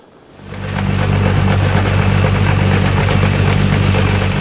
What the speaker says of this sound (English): That's the snowblower moving the avalanche out of the way.